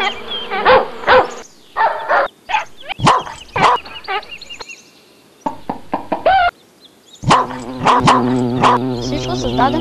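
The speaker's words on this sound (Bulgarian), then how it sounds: "Вижте, пчелички, те също изглеждат като нас." Bees buzz in an animated story, a droning hum mixed with sound effects and broken up by frequent speech.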